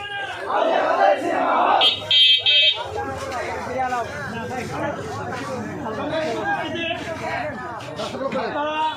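A crowd chanting takbir (Allahu Akbar) at a religious gathering, rhythmic massed voices calling out loudly under a leader's amplified voice, with a brief buzzing tone partway through.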